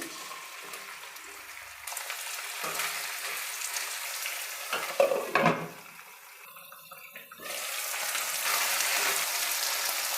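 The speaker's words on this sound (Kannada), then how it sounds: "ಕಟ್ ಮಾಡಿರೋ ತೊಂಡೆಕಾಯಿ ಸೇರಿಸ್ತಾ ಇದ್ದೀನಿ" Cut ivy gourd hits hot oil in a pan for a Karnataka-style thondekai fry, giving a steady hissing sizzle with a louder burst of spitting and stirring midway, then a continuous fry close by.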